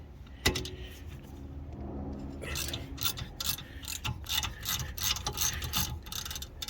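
Brake caliper bolts loosened with a 7mm Allen key on a 2017 Mercedes-Benz C220d AMG Line during a brake pad change, with a sharp metallic click followed by quiet ratcheting and clinking of tools, close and faint.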